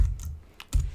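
A few keystrokes on a computer keyboard, close and fairly loud, with two separate clusters of clicks and a short pause between them.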